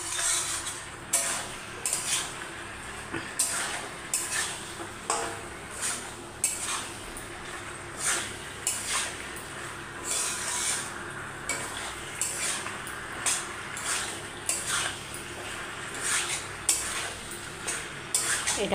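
Potatoes for jeera aloo stirred in a pan on the stove, a spoon scraping and clinking against the metal in a steady, repeated rhythm, with a faint sizzle underneath and no talking.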